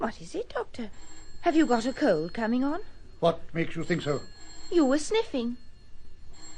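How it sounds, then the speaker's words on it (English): A telephone bell rings intermittently in an office scene from a BBC radio detective drama, thin repeated trills sounding under continuous conversation between two people. "Oh, excuse me, that's my phone."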